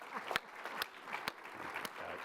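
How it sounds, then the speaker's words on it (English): Audience applause at a pediatric health conference session, moderate and somewhat distant, with a few sharp claps standing out over a steady patter and faint crowd murmur. "so we should give him a big round of applause for that"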